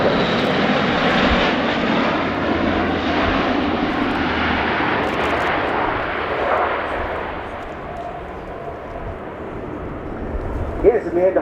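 An Airbus A400M Atlas military transport roars through a flying display at RIAT 2018, its turboprop engines giving a loud, continuous broadband drone that swells and eases slightly as it passes, with announcer speech over it.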